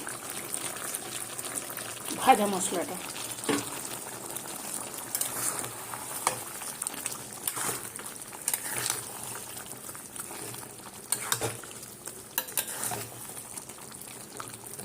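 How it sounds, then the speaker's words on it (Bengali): Meat curry bubbling in a pot after ground spices were added, giving a steady soft simmering hiss with occasional louder pops, under intermittent talk nearby. "এই যে মাংসটা ফুটছে"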